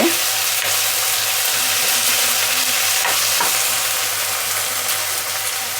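Home-pounded ginger garlic paste fries in a pan of curry, giving a steady loud sizzle with stirring scrapes, no talk.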